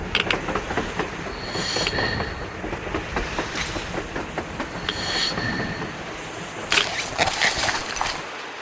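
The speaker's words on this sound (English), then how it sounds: "A train! A damn train on the surface!" A train rolls past in the video game Metro Exodus, with loud continuous rumbling, rhythmic wheel clatter and occasional high squeals of wheels on rails, close by and without talk.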